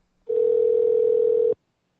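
A telephone ringing tone heard while calling a cell phone, a single steady electronic tone lasting just over a second, clear and alone.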